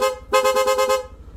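A Yamaha Aerox V2 scooter horn sounds in a short tone, then blares in a rapid pulsing burst of about eight quick beeps before cutting off.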